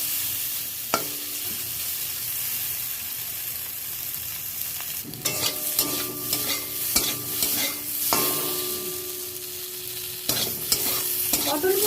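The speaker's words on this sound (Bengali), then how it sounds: "পটলগুলো একটু ভাজা ভাজা করে নিতে হবে।" Pieces of pointed gourd (potol), already salted and turmeric-coated, fry in a pan with a soft continuous sizzle, while a utensil scrapes and stirs them in bursts of clattering strokes. No one speaks.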